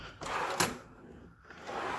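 A drawer in a hotel room is pulled open with a sliding scrape and a short knock, close by and fairly loud, with no talking.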